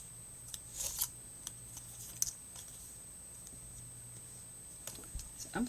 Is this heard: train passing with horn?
no